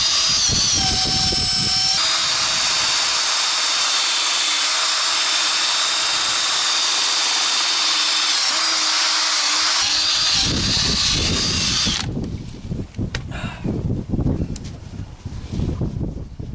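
A power drill runs steadily for about ten seconds, polishing the paint on a Massey Ferguson 35 tractor, a loud close whine that changes pitch briefly, then stops, leaving quieter handling noises.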